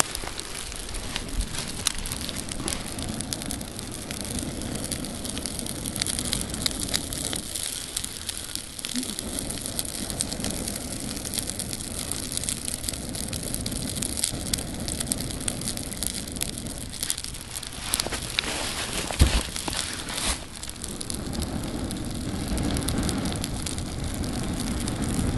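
Water boils on a one-stick fire stove outdoors, a continuous dense crackling and bubbling hiss that runs steadily and fairly close, with brief louder pops and the fire's roar underneath.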